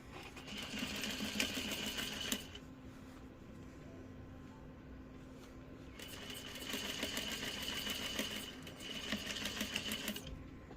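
Sewing machine stitching a doll skirt closed, a quiet, rapid mechanical whirring and needle clatter in two bursts separated by a brief pause, close up and alone.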